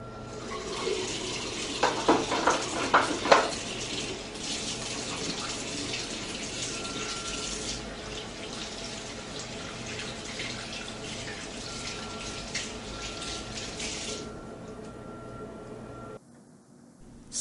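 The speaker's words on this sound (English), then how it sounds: "Wash hands with soap and water." Tap water runs steadily at the sink during handwashing with soap, with a few brief splashes and clatters near the start, and the flow cuts off abruptly near the end.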